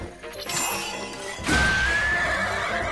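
A horse whinnies loudly after a clattering crash in Zelda: Breath of the Wild, with hoofbeats and game-like background noise, no talking.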